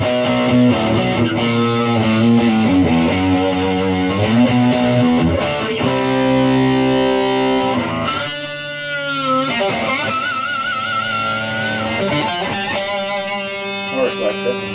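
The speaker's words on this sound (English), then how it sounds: "that reverb is going out through the crunch channel there" An electric guitar, an all-koa T2 prototype, plays sustained, slightly crunchy chords and notes through an amp's crunch channel, drenched in reverb, ringing loudly throughout.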